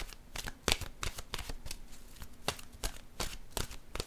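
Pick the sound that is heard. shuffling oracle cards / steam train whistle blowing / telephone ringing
shuffling oracle cards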